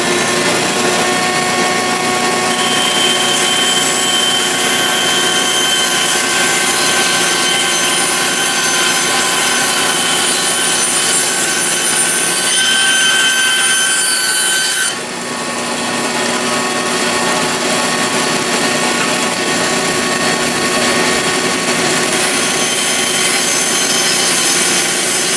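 Saw cutting through pallet wood, a loud continuous rasping drone with a slight change in pitch partway through, close and steady for the whole stretch.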